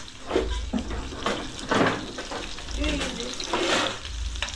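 Onions and pigweed frying and being stirred in a pan, a steady sizzle with stirring scrapes and a few louder bursts, close and moderately loud.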